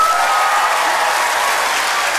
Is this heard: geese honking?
no